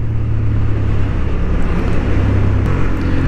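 A Honda Hornet 750 motorcycle in sport mode on a racing track, its engine droning steadily and loudly throughout with a low rumbling tone, wind rushing over it and no speech.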